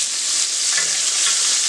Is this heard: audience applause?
no